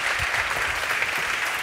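A studio audience applauds a guest, Frederieke Leeflang, with a steady, dense round of clapping that holds evenly from start to finish.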